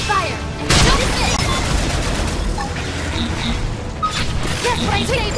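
Combat gunfire from the video game Xenoblade Chronicles X: a dense, loud barrage of rapid shots and booms that runs through the whole stretch, mixed with game effects and brief voices.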